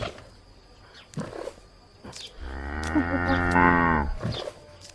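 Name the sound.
cow mooing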